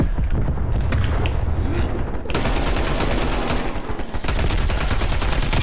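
Rapid bursts of submachine gun fire in the first-person shooter Black Ops Cold War, loud and close, with a quieter stretch near the start and a dense, continuous rattling volley through most of the clip.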